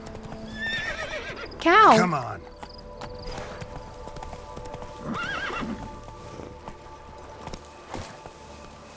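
Roach the horse in The Witcher 3, Blood and Wine, neighing loudly in a rising whinny with hoof clip-clops, then a second fainter whinny, while someone talks over the game.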